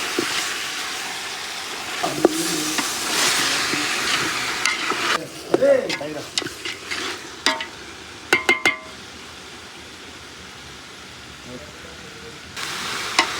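Chicken and carrot fry in a pan while being stirred, with a steady sizzle and scraping strokes early on, then thinning into sparser clanks and knocks.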